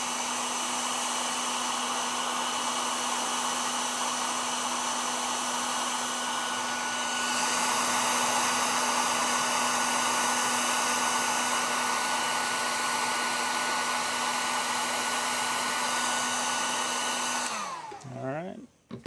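A hot air tool blows steadily to heat adhesive, a loud continuous whirring hiss with a fixed whine that shifts slightly midway and cuts off at the end.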